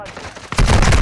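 Gunfire in Call of Duty Warzone Resurgence: a sharp shot cracks out midway, followed by a dense, loud burst of rapid firing that continues to the end.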